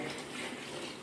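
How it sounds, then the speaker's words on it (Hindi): Steady rush of water pouring into a cooking pot of beef biryani, continuous and fairly close for about a second, with no voices. "अब इसमें हम पानी डालेंगे।"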